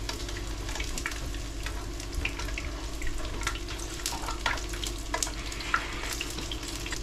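Conch fritters fry in a pan of hot oil, a steady close crackle and sizzle with scattered sharp pops over a low hum. Nobody speaks.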